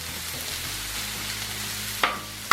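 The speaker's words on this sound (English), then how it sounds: "Get our veggies cooked up a little bit. That garlic, oh boy, if you could smell that." Vegetables and sliced garlic stir-frying in oil on a Blackstone griddle, a steady close sizzle, ending in two sharp metallic clacks of a spatula on the flat top.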